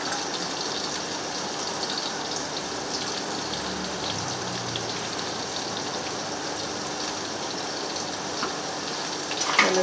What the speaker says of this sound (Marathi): मी शेपूच्या भाजीतलं पाणी काढून घेते